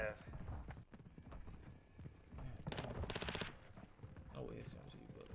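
Rapid SMG gunfire in a video game, heard as a quick automatic burst among other game noise, with excited voices talking over the action.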